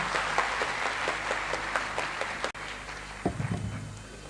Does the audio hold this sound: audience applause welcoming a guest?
yes